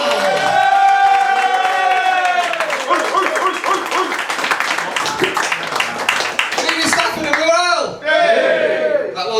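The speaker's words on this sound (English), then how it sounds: "Can we start a small ripple of applause from the people in the front row?" A comedy club audience at a stand-up show breaks into loud applause mixed with cheers, whoops and shouts, the crowd noise swelling and fading under excited voices.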